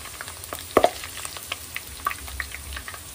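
Garlic cloves dropped into onions frying in a pan for a guar bean dish, giving a soft steady sizzle with a few brief clatters and stirring scrapes, fairly quiet and close, with no voices.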